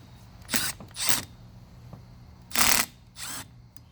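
Four separate bursts of ratcheting, mechanical clicking in a quiet room as a bike's ignition trigger is unscrewed, two close together early and two more after a pause.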